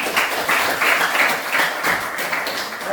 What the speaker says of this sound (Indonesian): kita berikan aplaus untuk semua untuk hari ini